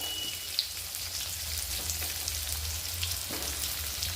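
Stuffed ridge gourd sizzles in a hot pan as it is stir-fried village style, giving a steady, close frying hiss with a few soft stirring scrapes and no talking.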